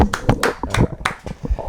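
Hands clapping up close, with about eight or nine sharp, loose claps in an uneven rhythm, quick and bright with no voice over them.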